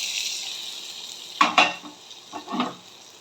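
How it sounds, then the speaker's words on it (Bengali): A spoon stirs tempering into a soybean curry in a pan, making a few close scraping clinks over a soft steady sizzle of frying. "এই সুন্দর করে এটা মিশিয়ে দিচ্ছি"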